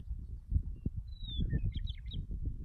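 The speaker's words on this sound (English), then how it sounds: "That's a Western Meadowlark." A western meadowlark sings a short, bright run of fluting whistles and warbles at a distance, over low rumbling handling noise and wind.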